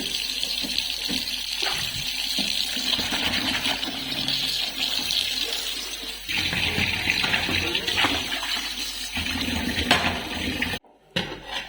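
Rice being rinsed in water for tomato rice, a continuous sloshing and swirling of water with scraping and clinking against a metal vessel, close and steady, with a brief silence near the end.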